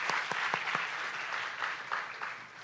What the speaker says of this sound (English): give all 16 of them a big round of applause for having the courage to come up here and speak